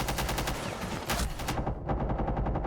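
Gunfire during a video game gunfight, with rapid loud automatic bursts of rounds followed by a slightly softer fast string of shots, all close and continuous.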